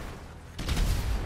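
A car explodes in GTA Online: a quiet stretch broken by a sudden loud, broad blast that rumbles on with crackling debris.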